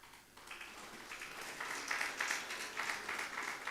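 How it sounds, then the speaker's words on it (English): Applause from a parliamentary forum audience for five presenters, a steady wash of many hands clapping at moderate distance, rising slightly after a quiet start and continuing evenly with no talk over it. "let's give the 5 presenters a round of applause with appreciation"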